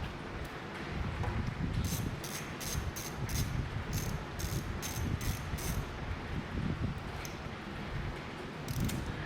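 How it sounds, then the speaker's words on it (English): A clamp on a Bobcat fuel filler neck being loosened, giving a rapid series of ratcheting clicks in bursts over steady rustling background noise, fairly close with no voices. "Loosen the clamp down here."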